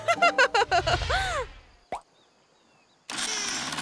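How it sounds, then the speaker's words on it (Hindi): Cartoon engine starting in a Zig & Sharko episode: a quick rising mechanical whoosh follows a burst of bouncy sputtering and boings, then a short silence before a loud steady roar kicks in. "नया इंजन लगा दिया, डोंट वरी।"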